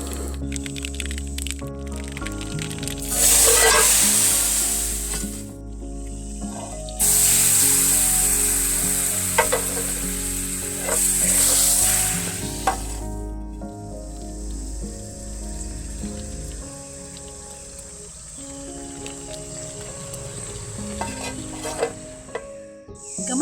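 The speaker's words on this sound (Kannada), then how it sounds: "1 ಸ್ಪೂನು ಸಾಸಿವೆ ಹಾಕ್ತಿದ್ದೇನೆ, ಅದು ಚಟಪಟ ಆಗಲಿ." Mustard seeds crackle and sizzle in hot coconut oil with chillies, urad dal, curry leaves and hing for an Udupi-style pumpkin sambar tempering. The hiss swells in loud bursts, then settles to a softer, steady spatter near the pan, with no talk.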